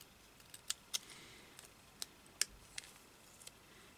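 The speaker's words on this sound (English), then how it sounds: "let's go cut this up here." Scissors snipping paper in a series of short, sharp, quiet clicks at an irregular pace, heard alone in a calm room.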